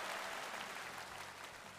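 Audience applause for performers on a televised singing competition stage, a dense continuous wash of clapping from a large crowd, steady and loud throughout without talk.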